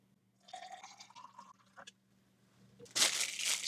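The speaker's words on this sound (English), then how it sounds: "This is a pint glass, so I'm going to fill it up to maybe 3/4 full." Water poured from a container into a pint glass while preparing an old military ration, with a rising fill tone followed by a louder, rushing splash near the end.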